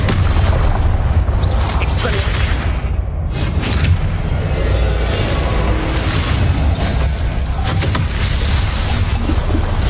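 Booming spell blasts from the Hogwarts Legacy video game, the fiery Confringo curse, pounding continuously and loudly in dense combat with bursts and crackles layered over a heavy low rumble, with voices present in the mix.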